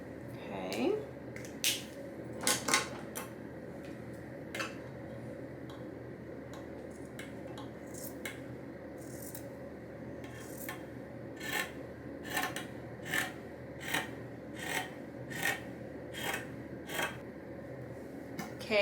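Scissors snip through fabric while cutting a DIY summer top, a series of short crisp rasping cuts at an uneven rhythm, close by and fairly quiet over a low room hum.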